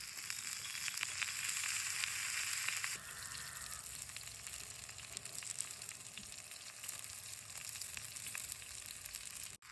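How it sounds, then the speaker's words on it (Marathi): Raw green mango, onion and tomato roasting in hot oil with crushed green chillies give a steady, close sizzle and frying crackle, louder for the first three seconds and then a lower, even hiss to the end. "आता कैरी साईडनी ना कांदा तांबट ठेवते भाजायला"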